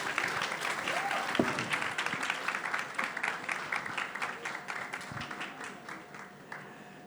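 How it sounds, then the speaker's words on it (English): An audience at a Garnier launch event applauds a celebrity panel, a steady wash of many hands clapping, fairly soft and distant, with a few voices murmuring underneath. "can we have a round of applause for the panel, please?"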